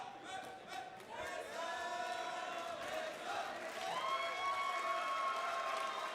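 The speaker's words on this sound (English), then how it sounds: "You can hear the love that the crowd is giving to these guys." A fight-night crowd at a featherweight championship event cheers and chants a fighter's name, a sustained, rising roar with rhythmic chant tones, heard from within the arena.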